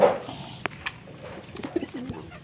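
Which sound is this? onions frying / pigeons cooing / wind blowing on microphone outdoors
pigeons cooing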